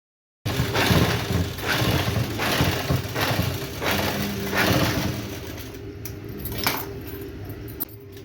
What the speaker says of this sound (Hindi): नीचे सिलाई चलाने के बाद हम पार्ट को सीधा रखेंगे और साइड से भी हम पूरे में सिलाई चला लेंगे इस तरह से।